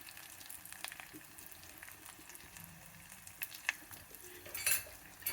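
Spices and asafoetida fry in a pan, giving a faint, steady sizzle with a few soft clinks and stirring scrapes near the end.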